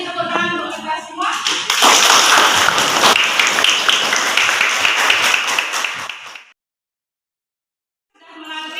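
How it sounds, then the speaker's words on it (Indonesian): Applause from a classroom group erupts loudly and holds steady for about five seconds, then stops dead into silence; a voice speaks before the clapping and again after the pause. "Oke, jadi tepuk tangan untuk kita semua."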